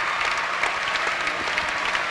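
A crowd at a boys' high school basketball game at Lorain Catholic applauds Brandon Neal for passing 1,000 career points. The clapping is steady, dense and moderately loud, filling the whole moment with no voices on top.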